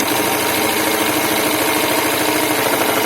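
Live-steam model tug Aggrip with its original transmission, its steam engine running in reverse at about 1 to 2 bar and turning two propeller shafts: a loud, steady, close mechanical rush and churn, alone and without talk.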